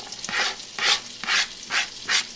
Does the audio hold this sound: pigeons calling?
no